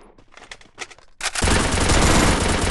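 Gunfire in the mobile battle-royale game Garena Free Fire: a few scattered clicks and soft shots, then a sudden loud burst of sustained automatic fire that roars on unbroken to the end, close and dense.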